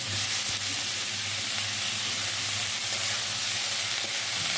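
Flowers frying in a pan with salt and turmeric give a steady, close sizzle with a soft hiss that holds evenly throughout, with no talking.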